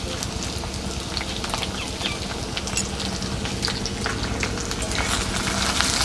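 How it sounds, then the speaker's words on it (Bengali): Potato pieces fry with salt in a pan for Bengali aloo posto, giving a steady close sizzle and crackle with frequent small pops throughout. "নুন দিয়ে আমি আলুটাকে খুব ভালো করে ভেজে নেব।"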